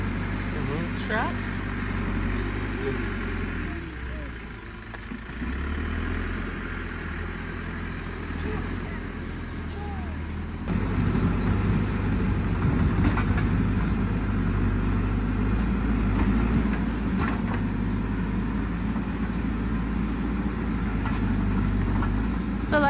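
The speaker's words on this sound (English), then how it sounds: "Truck." A truck engine idles and rumbles steadily nearby on a rural hillside in Oaxaca, growing louder partway through, with light background noise and no clear talk.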